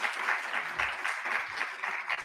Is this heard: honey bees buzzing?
no